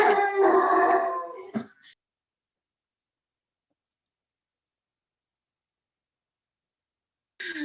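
Dog howling close by, a sustained tonal howl of about one and a half seconds, then silence before another brief sound at the end.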